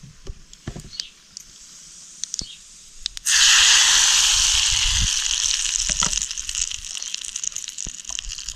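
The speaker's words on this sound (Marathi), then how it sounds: "फोडणी आपली चांगली चरचर करायला लागली" Hot oil tempering with asafoetida, poured over raw mango pieces for a pickle, bursts into a loud, close sizzle after a few quiet seconds of faint kitchen noises, then keeps crackling steadily to the end.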